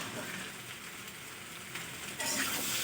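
Spices and vegetables being stirred together in a pan, a quiet continuous sizzle and crackle that grows slightly louder toward the end, with no speech.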